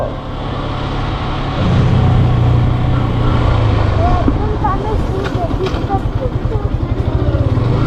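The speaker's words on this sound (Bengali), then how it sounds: "চলতি মোটরসাইকেল" A Yamaha motorcycle rides along a road in Bhola, Bangladesh, its engine giving a steady, close drone with a rhythmic pulsing throb toward the end, and voices faintly over it.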